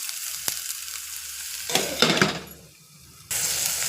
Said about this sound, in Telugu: మిల్ మేకర్ ముక్కలు కూడా వేసేద్దాం. ఒక్కసారి కలిపి కొంచెం మూత పెడదాం.